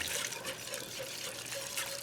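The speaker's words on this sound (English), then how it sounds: "and now I'm gonna add the milk" Milk poured into a bubbling flour-and-butter roux in a pan, a steady continuous trickle and splash of liquid that sounds close and fairly loud throughout, with no talking.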